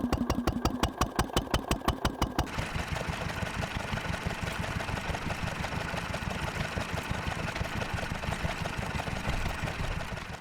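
Steam traction engine under constant heavy load, a steady rapid chuffing beat that starts slower and louder, then settles into a fast, even, close rhythm running alone.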